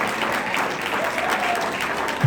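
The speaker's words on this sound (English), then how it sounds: "Pastor Franz deserves a big hand of applause" An audience at a ministry gathering applauds a pastor with a dense, even wash of clapping hands, sustained and fairly loud for the whole short stretch.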